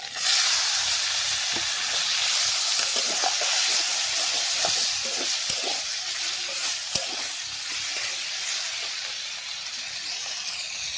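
Chopped tomato fries in a hot pan with a loud, dense, continuous sizzle and hiss, broken by a few light stirring knocks, and no voices.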